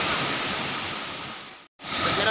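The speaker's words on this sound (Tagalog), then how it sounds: "Ito yung bandang itaas ng falls." Rushing water at the top of the Busay Lower Baluran falls in Imelda, Zamboanga Sibugay, a steady broadband roar heard close by that cuts out briefly near the end.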